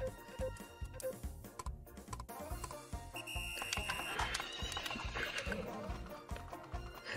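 Horses gallop in a horse racing video game, with steady clip-clop hoofbeats and an occasional whinny running continuously and fairly loud under game music and effects.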